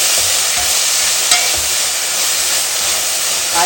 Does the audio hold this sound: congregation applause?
no